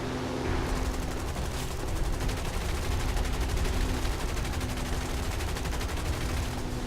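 Sustained rapid aircraft gunfire strafing an artillery position in the War Thunder game, a dense rattling burst running continuously over a droning engine, loud and close throughout.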